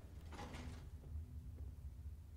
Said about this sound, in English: Let's get the door closed.